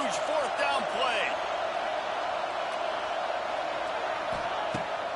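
Steady wall of crowd noise in an NCAA 26 college football video game during a big fourth-down play, a loud continuous roar with faint commentary voices mixed in.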